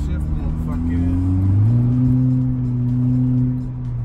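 A tuned Audi A4 B7 (Integrated Engineering stage 1) revving up after a downshift, heard from inside the car as a loud, steady engine drone that climbs in pitch and holds, with no talk over it.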